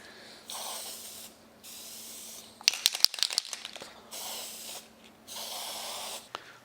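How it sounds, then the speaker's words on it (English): Testers decal bonder aerosol sprayed over inkjet-printed decals taped down on a Piper Archer model airplane: three close, steady hissing bursts with a cluster of sharp clicks and crinkles between them. "I'm going to spray the decals with the decal bonder spray that protects the ink, keeps it from running."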